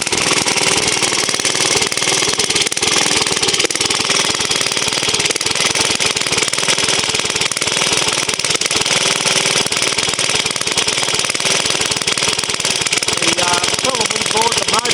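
A vintage J.A.P. engine in Australia runs steadily while warming up, a loud, dense, unbroken clatter close by, with a voice speaking over it.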